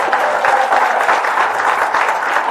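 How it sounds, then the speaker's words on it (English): Audience at an International Day for Women in Maritime event in Kisumu claps in a steady, lively round, loud and close throughout. "So give yourself a round of applause."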